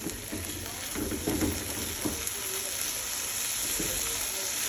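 Masala and onions sauté in a pan with a steady, close sizzle, broken by occasional scraping stirs. No one speaks.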